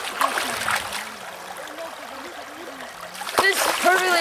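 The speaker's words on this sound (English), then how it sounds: "Just totally is washing all this sand away." Water runs and splashes steadily over a stretch of bright white sand and gravel, washing the sand away, while people talk over the flow.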